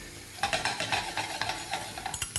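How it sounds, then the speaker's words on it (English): Roughly chopped spring onions frying in olive oil in a pan, a light continuous sizzle with soft stirring scrapes, close and without talk. "putting roughly chopped spring onions on to fry in olive oil. Just a light sizzle."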